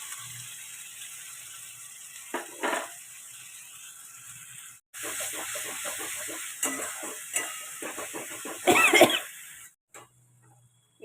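Spice paste of garlic, ginger and green chilli sizzles and fries in a pan for a family lunch, with bursts of crackling and stirring scrapes between quieter stretches, a cough heard nearby.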